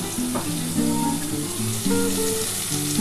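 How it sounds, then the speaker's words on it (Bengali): Spiced water poured into hot oil for rohu fish kalia, a steady close sizzle and bubbling with clattering stirring over it, continuous for a few seconds without talk. "এবার আমি এই মশলা দেওয়া এই যে মশলার জলটা আছে এটা দিয়ে দেবো"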